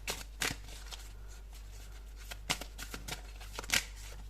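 Oracle cards being shuffled by hand in a quiet room, a series of soft riffling bursts and flicks with pauses between, close and fairly faint.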